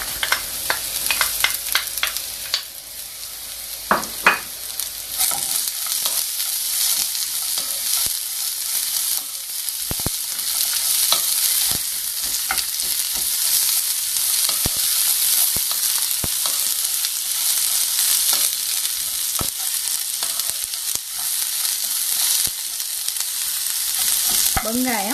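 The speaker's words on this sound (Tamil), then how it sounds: "இனி வெட்டி வச்சிருக்கிற வெங்காயத்தையும் அதோட சேர்த்துக்கொள்ளுவோம்" Chopped onions sauté with dried chillies in a pan for chutney, giving a continuous hissing sizzle with intermittent scrapes and taps from stirring. A few sharper clatters come near the start, and there are no voices.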